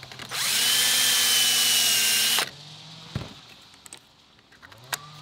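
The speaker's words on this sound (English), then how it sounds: "We got our hole drilled in it." Power drill whining loudly and steadily for about two seconds while drilling a hole in a sluice handle, then stopping, followed by a few scattered knocks and handling clatter nearby.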